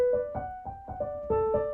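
A few piano notes repeat in a quick pattern, the lower note shifting between two pitches, brief and fairly soft.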